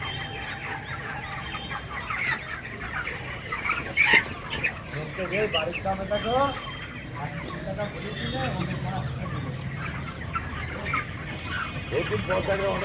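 Chickens cluck and chatter throughout a poultry shed holding about 1500 birds, a dense flock murmuring steadily with occasional louder squawks and some background speech.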